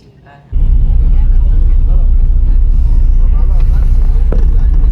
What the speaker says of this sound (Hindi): बस स्टैंड के बाहर बस निकल चुकी है और निकलते ही ट्रैफिक